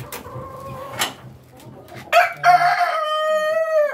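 A Rhode Island Red breeder rooster in a farm cage crows loudly and close, a long drawn-out call, preceded by brief clucking and soft background noises.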